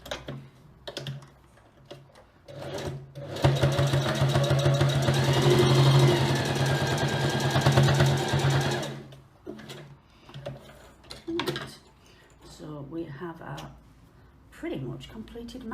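A sewing machine stitches a fabric mask in a steady, dense run lasting about five seconds, loud and close, with quieter handling and pin-moving noises before and after.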